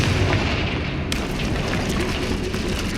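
Confringo spell explosion in the Hogwarts Legacy video game, a loud, dense blast with rumbling debris that stays roaring and sustained for the whole moment.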